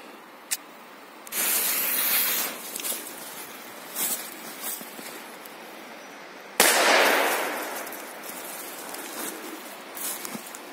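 A firecracker pops with a sharp crack, then a rushing burst of spray and hiss, followed by a second loud blast scattering debris.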